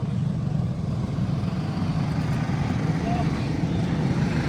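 80cc Junior go-karts racing at a Shenzhen circuit, a steady dense engine drone holding loud and constant throughout with no pauses, engines blurred together at mid distance.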